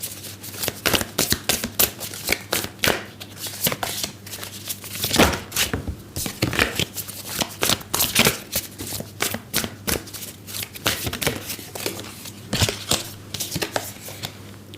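Tarot cards shuffled continuously by hand for a long stretch, steady close rustling and flicking over a low background hum, with no speech.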